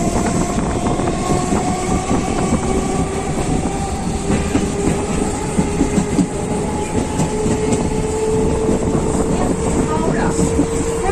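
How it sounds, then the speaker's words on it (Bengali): A Katwa–Howrah local train pulls away from a rural station, its steady rumble and rhythmic wheel clatter close and loud, with tonal whines rising as it gathers speed and a voice heard faintly beneath. "এখন ট্রেন বেলেরহাট স্টেশন ছেড়ে দিল, এবার যাবে লক্ষ্মীপুর স্টেশনে।"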